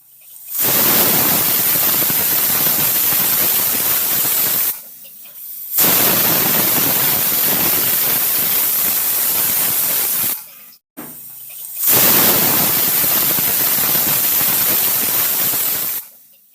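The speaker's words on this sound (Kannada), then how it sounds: "ಈಗ ಇದನ್ನು ಒಂದು ಮೂರು ವಿಜಲ್ ನಾನು ಕೂಗಿಸ್ಕೊಳ್ತಾ ಇದ್ದೀನಿ" Pressure cooker cooking rice and moong dal lets off three long, loud hissing steam whistles in turn, each a steady broadband blast of several seconds separated by short quiet gaps.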